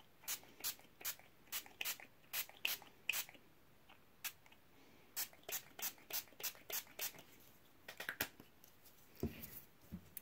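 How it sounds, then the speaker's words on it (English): Quick spritzes from a spray bottle onto canvas, a dozen or more short hissing bursts in uneven clusters, close by and fairly quiet, with no talking. "I'm gonna spray the flowers over here."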